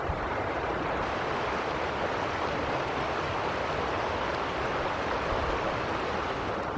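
A creek flowing over rocks on a ranch, giving a steady, even rush of water that fills the whole stretch without a break and with no voices.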